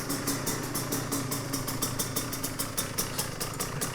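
Motorcycle engine idling with the choke still on, a steady close rumble with a regular pulsing beat throughout, no talking.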